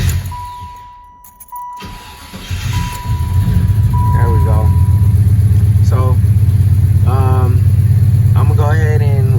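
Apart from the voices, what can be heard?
Impala SS car engine idling while warming up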